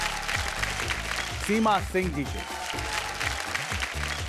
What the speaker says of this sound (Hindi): जोरदार तालियों से स्वागत करिए धनबाद के नंदिनी शर्मा जी के